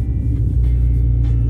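A Volkswagen Passat B5 running on LPG with a modified exhaust idles and blips its throttle, a loud, close, steady low rumble with brief rises in revs and no talking.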